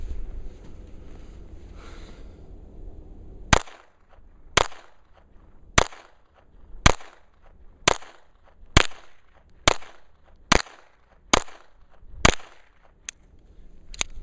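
A Kimber 1911 pistol with a .22 conversion kit firing cheap Federal ammunition: about a dozen sharp, loud reports at a steady, unhurried pace, each with a brief ringing tail, and no talking between shots.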